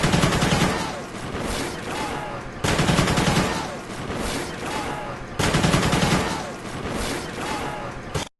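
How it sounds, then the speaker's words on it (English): Sustained automatic gunfire from a Call of Duty Ghosts match, loud and dense bursts of rapid shots that swell and restart in roughly three waves, with heavy battlefield din filling the background. "I throw down cover fire while heading to safety"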